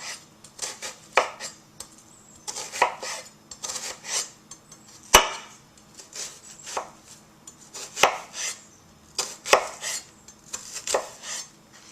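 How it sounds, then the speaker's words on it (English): A knife dicing vegetables on a cutting board, with repeated clusters of sharp chopping strikes in an uneven rhythm, close and crisp, with brief pauses between bursts. "I'm going to make additional cuts on either side"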